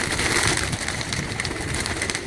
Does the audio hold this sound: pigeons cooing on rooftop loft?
yes